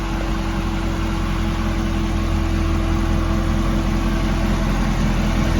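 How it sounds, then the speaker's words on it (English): Idling supercharged Chevrolet Camaro ZL1 1LE fitted with a new MPI supercharger lid, steady close engine rumble with a continuous blower whine running unbroken throughout, no voices. "I hear a blower whine."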